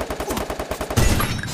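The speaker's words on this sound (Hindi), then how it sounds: "अरे भाई बंदे ने गोली चलाया" Gunfire from an SMG in a mobile battle royale shooter, a rapid burst of close, loud shots followed by a denser volley with heavier low-end thumps, no talking.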